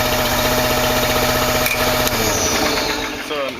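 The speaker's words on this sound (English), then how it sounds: "So now that we have the engine started," Small gasoline engine on a mosquito sprayer running steadily just after starting, a close, loud, even buzzing drone with strong harmonics that dips slightly near the end.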